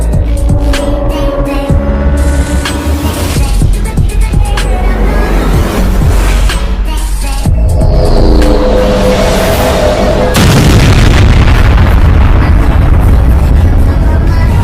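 A cartoon explosion blast in an animated Granny and Evil Nun story, with a loud burst of noise swelling late and filling the sound, set against continuous music and rumbling effects throughout.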